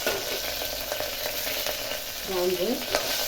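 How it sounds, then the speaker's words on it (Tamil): Crushed whole spices such as cloves, cinnamon and fennel fry in a hot pot for coconut milk biryani, a steady close sizzle with stirring clatter and a brief faint voice-like sound near the end. "நம்ம இடித்து வச்சுருக்க இந்த மசாலாலாம் கொஞ்சம் இந்த இதில் ஃப்ரை பண்ணிடுவோம்"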